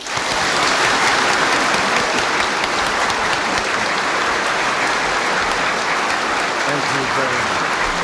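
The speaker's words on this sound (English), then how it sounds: "Now let us greet Mr. President's speech with a warm applause." Audience at a president's Fudan University speech giving a warm, sustained round of clapping, dense and even, with someone briefly speaking over the applause.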